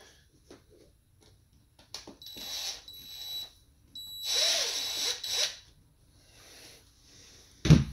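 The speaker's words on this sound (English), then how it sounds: "I'm gonna loosen them up. Got the DeWalt." A DeWalt power driver loosens stripped screws on a carburetor, with two short, high-pitched whirring bursts separated by pauses and a few clicks and knocks nearby.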